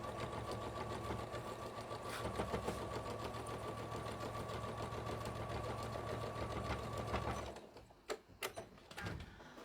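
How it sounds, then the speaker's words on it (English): A sewing machine runs a straight line of stitching down the centre of a fabric bag cover, a fast, steady mechanical whir and needle chatter that stops near the end, followed by a few sharp clicks and handling knocks. "this one I'm just sewing straight down the centre"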